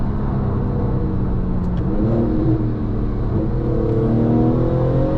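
A tuned Porsche 911 997.2 Turbo engine droning with a steady throaty exhaust note, rising slightly in pitch as it accelerates in Sports Plus mode, heard from inside the car.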